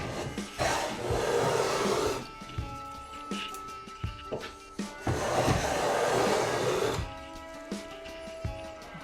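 A cheap AliExpress hand plane shaves softwood in two long, loud rasping strokes, each a broadband scrape lasting a couple of seconds, separated by lighter knocks and handling clatter as the plane is reset.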